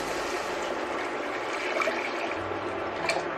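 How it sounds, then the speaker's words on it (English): Water poured steadily into a pot of sautéed vegetables for a lentil soup, a continuous splashing gush that holds at an even level for a few seconds with no talk over it. "now we are going to add 3 cups of water into here"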